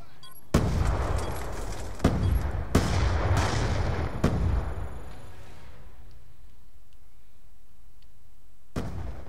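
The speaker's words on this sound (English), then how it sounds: "Throw a frag!" Frag grenade blast and gunfire in Call of Duty: Black Ops 2 multiplayer on Xbox 360: several loud, sharp broadband shots and booms with decaying tails over the first five seconds, a quieter lull, then one more sharp report near the end.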